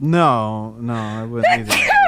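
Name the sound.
sneeze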